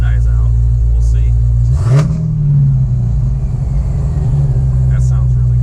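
A car engine idles with a deep rumble, then revs up sharply and holds a raised, rough throttle before settling, loud and close throughout.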